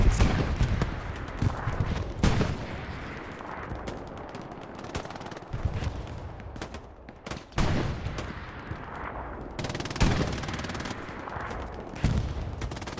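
Machine-gun fire in the World War II shooter Hell Let Loose, in a 49-versus-49 console match: loud bursts of rapid shots break out repeatedly against a constant rumble of distant battle.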